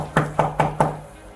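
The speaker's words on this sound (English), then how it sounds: "began knocking on the door" Police knock on an apartment door with four firm, evenly spaced raps, close and loud, followed by a quiet pause.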